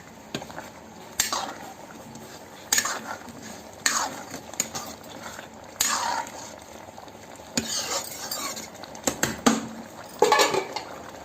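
A spoon stirs cooked taro-leaf vegetable curry in a metal pot, giving irregular scraping swishes and clinks against the pot wall, some louder knocks near the end; close and moderately loud, with no talk.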